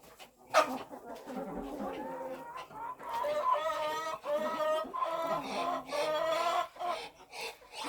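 Farm ducks quacking repeatedly and close by in a backyard poultry yard, a busy run of harmonic calls that thickens into a steady chorus, with other fowl clucking around them.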